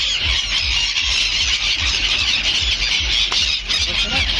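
Constant high-pitched bird squawks and squeals from many birds at once at the seashore in Dwarka, a dense noisy chorus running steadily throughout with no talking.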